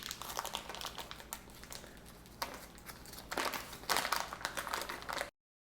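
A plastic package of thick cut smoked bacon is worked open nearby, its crinkling and crackling running steadily for about five seconds and growing louder toward the end, with no talking.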